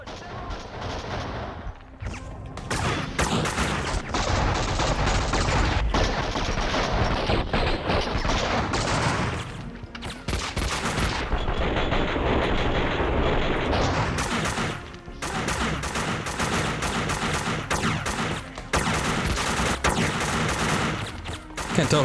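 Sustained heavy gunfire aimed at the player in Max Payne 2, near-continuous loud shooting and crashing bursts over about twenty seconds, with a few brief lulls, and no speech over it.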